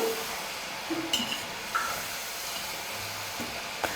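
Potato snacks frying in hot oil, a steady broadband hiss of bubbling through the whole stretch, with a few faint clicks and knocks now and then and no talking.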